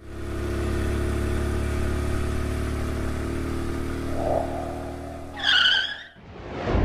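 An animated cartoon motorbike engine drones loudly and steadily, swells briefly, then ends in a sharp, squealing rev or skid before cutting off abruptly, with no voices.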